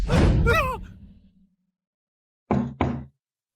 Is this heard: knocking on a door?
yes